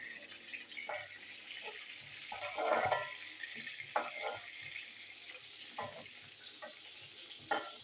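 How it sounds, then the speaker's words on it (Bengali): Pieces of pointed gourd (potol) fry in hot oil with a steady, mid-level sizzle, broken by occasional scrapes and clatters of a utensil, with no one speaking. "তো পটলগুলো আমি আগে ভেজে নিই।"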